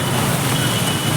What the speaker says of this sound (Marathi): अजून पाऊस चालू आहे